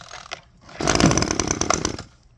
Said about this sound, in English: I've never had a hedge trimmer like this before